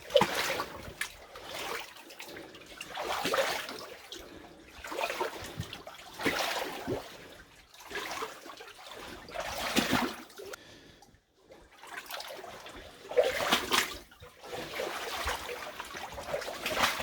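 Boots wading through deep water in a flooded coal mine adit, irregular sloshing splashes and trickles in uneven bursts, close and moderately loud, with pauses of near quiet.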